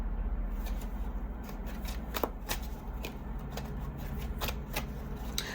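Tarot cards are shuffled by hand to draw a clarifier card, making a quick series of crisp riffling snaps and papery flutters over a faint low hum.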